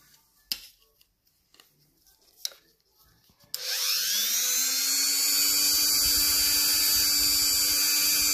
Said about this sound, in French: J'ai décidé de passer sur un vrai disque d'abrasion, histoire de rogner quelques microns beaucoup plus vite.